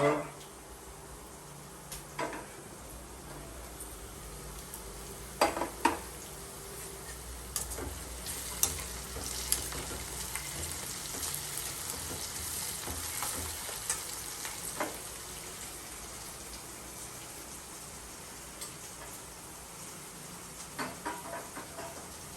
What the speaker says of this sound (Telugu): తాలింపులో చాలా ఇంపార్టెంట్ ఇంగ్రీడియంట్ పచ్చిపప్పుని మర్చిపోయా అది మళ్ళీ ఇంకోసారి డబుల్ ఫ్రై చేస్తున్నాను